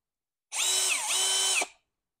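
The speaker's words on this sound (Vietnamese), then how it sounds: "đây là thân máy bắn vít nè, à, thân máy khoan" A Hikoki DV18DBFL2 cordless drill spins up for about a second, a loud, high whine that dips briefly in pitch mid-run before spinning down to silence, with no talking.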